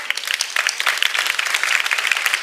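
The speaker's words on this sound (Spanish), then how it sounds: "Dale un aplauso fuerte al Señor" A church congregation claps steadily in a dense, even round of applause, with no speech on top.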